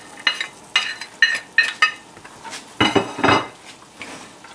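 Celery and carrot tumble into a pan for Mexican picadillo and are stirred, giving a run of close, sharp utensil clacks and scrapes against the cookware, followed by a denser scraping stir.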